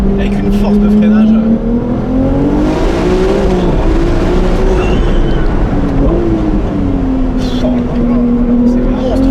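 An 830 hp Ferrari 296 GTS convertible surges forward, its engine note climbing and falling through loud, rising revs from the cabin, with a voice talking over the sound.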